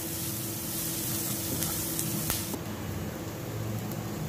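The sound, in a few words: onion frying in oil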